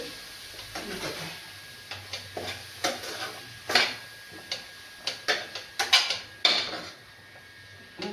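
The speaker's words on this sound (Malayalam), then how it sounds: "അരപ്പ് നന്നായിട്ട് മൂക്കട്ടെ." Masala paste for chicken curry fries in a pan with a low sizzle, punctuated by a series of sharp spatula taps and scrapes against the metal, close and irregular.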